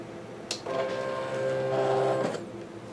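A home craft cutting machine, not a Cricut, draws a sheet of graphic material in with a steady motor whir and a few soft clicks at the start and end, close by in a quiet room.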